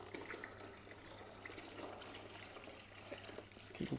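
Water pours steadily into a cold brew coffee filter bag as a large batch is topped up by about two litres, with a continuous soft gushing and trickling that stays fairly quiet and even.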